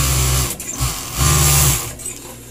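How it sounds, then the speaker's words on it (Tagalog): A sewing machine stitches leggings fabric in two steady motor bursts with a short pause between them, loud and close, with no talking. "Tahiin mo ulit siya."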